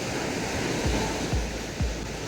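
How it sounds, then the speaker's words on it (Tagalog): Ocean surf at Tinian Island rushes in a steady broadband wash, with several low thumps of waves breaking at intervals, nearby and fairly loud, with no talking. "Ang ganda ng alon, no?"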